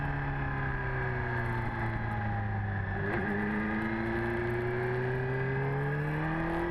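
A motorcycle at Le Mans rides and leans through a turn. The engine whines close by, its pitch sliding down and then climbing again as it revs, steady and unbroken, with no talk.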